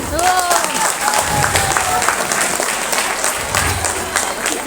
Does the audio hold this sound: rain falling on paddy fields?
no